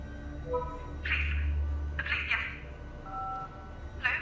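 A phone call to the 999 emergency line in London, with electronic telephone tones and beeps mixed with brief voice bursts over a steady low line hum.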